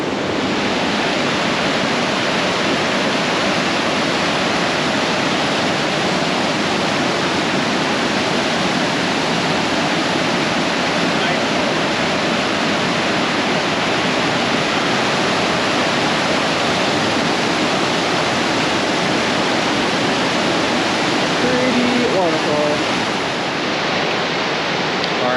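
Waterfall at Mystic Falls in Kings Canyon National Park, a steady loud roar of rushing water that holds evenly throughout, with no voices.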